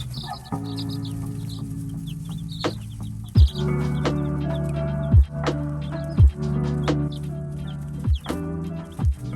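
Baby chicks on a farm cheep and cluck in a steady, overlapping chorus, with a few louder, sharper calls standing out close by and no talking.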